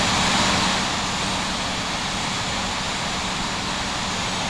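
Steady, loud jet engine roar from an airliner taxiing in the Infinite Flight simulator, a continuous broadband whine and rumble holding level throughout with no talking.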